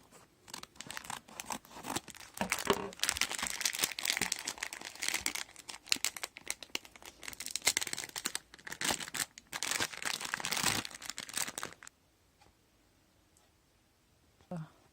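Packaging of organic chocolate fried-fish candies (friture) from Les Chevaliers d'Argouges is cut open with scissors, giving close, dense crinkling and crackling with sharp snips for about twelve seconds before the handling goes quiet.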